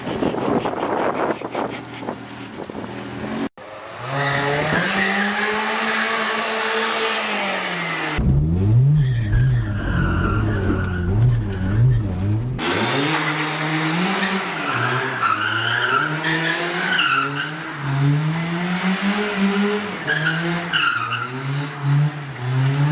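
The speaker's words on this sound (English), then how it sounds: "see if she'll do her first skid" A BMW E36 with a welded differential skids and revs through its first drift attempt, engine note rising and falling with loud tyre scrubbing throughout, no talk.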